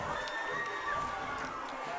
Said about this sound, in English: So wakes up the crowd